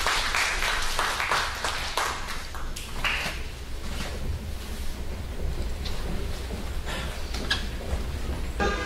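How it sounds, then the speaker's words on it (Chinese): Applause fills a hall at an indigenous-language singing contest as a dense, even wash of many hands clapping, steady and moderately distant throughout. "掌声鼓励，谢谢。"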